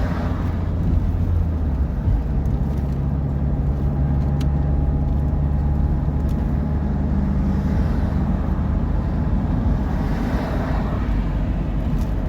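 Mini motorhome rolling along a road in winter, a steady low engine and road rumble with wind noise continuing evenly throughout, fairly loud and close, no talking.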